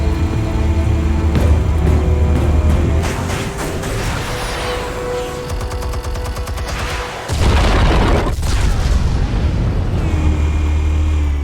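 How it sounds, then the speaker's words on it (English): Armed explosives go off in Batman The Telltale Series as a loud, sustained blast with deep rumbling booms and crackling debris, then a second heavy surge of low roar near the end. "Explosives armed. Fire when ready."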